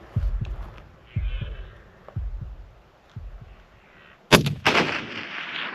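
A rifle fires while hunting roaring red stags outdoors: a sharp, loud gunshot bursts out near the end, following a run of low thumping sounds, and someone speaks in the background.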